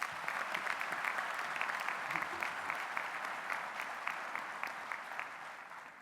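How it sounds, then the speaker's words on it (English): A graduation ceremony audience applauds a university rugby team's National Varsity Cup win, a dense, even crackle of many hands clapping throughout, heard from a distance in a large hall. "Can we hear that round of applause again?"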